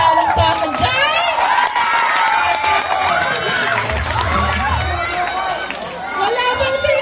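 A crowd at a school event in the Philippines shouts and cheers continuously, with children's high voices whooping loudly throughout. No distinct clapping stands out.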